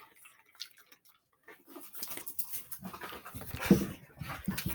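A dog pants in quick, breathy bursts, faint at first and then steadier and closer through the second half, with no one speaking.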